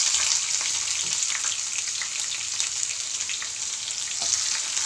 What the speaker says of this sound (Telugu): ఇప్పుడు ఉల్లిపాయ పచ్చిమిర్చి ఫ్రై అయిపోయింది కదా